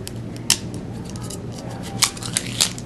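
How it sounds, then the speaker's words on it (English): Scissors snip through a plastic drinking straw while a model truss is built, giving three sharp, close cuts at uneven intervals over a low steady background hum. "Take a pair of scissors,"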